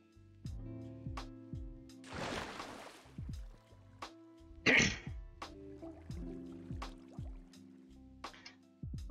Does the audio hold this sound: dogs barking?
no